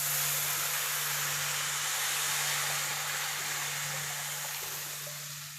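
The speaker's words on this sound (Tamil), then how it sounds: "அந்த புளியை இப்போ நம்ம ஊற்றிடலாம்." Tamarind water poured into roasted spices in a pan for vatral kuzhambu, giving a steady broadband sizzle and hiss that holds loud throughout, fading slightly toward the end, with a faint low hum beneath.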